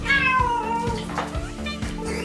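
A person imitates a cat with drawn-out, whiny meows, loud and close, over a steady rhythmic musical backing.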